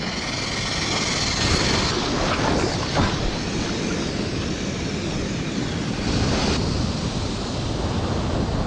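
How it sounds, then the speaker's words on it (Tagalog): Strong sea surf at the shore on Aurora's saltwater fishing coast: a loud, continuous rushing roar of breaking waves that swells slightly in places, with no voices. "Pero mukhang mali pa rin yung aking napwestuhan kasi napakalakas pa rin ng alon."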